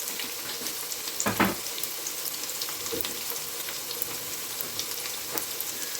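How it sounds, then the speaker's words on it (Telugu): Ghee sizzling in a pan while rice is prepared for paneer biryani, a continuous bright hiss with a few louder crackling bursts, close and steady without talk. "రైస్ కోసం కొద్దిగా ఇలాగా నెయ్యి వేయండి"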